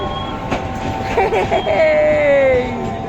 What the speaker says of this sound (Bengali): কোথা থেকে ট্রেন আসলো? জামালপুর চট্টগ্রাম থেকে আসলো।